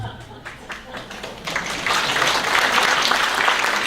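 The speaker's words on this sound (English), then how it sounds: "So applause goes slowly there" Audience applause after a card magic trick, starting thin and sparse, then swelling into fuller, denser clapping partway through and holding there to the end.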